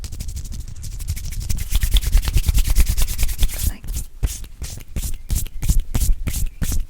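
Hands rubbing together close up, a steady dry swishing that turns into distinct back-and-forth strokes in a quick, even rhythm.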